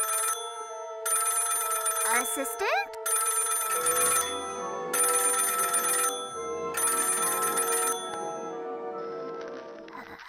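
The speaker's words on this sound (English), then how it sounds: "Assistant, answer the phone!" A cartoon telephone in Crayola Scribble Scrubbies rings in four evenly spaced bell-like bursts. A character's voice speaks and makes a sliding vocal sound between the early rings.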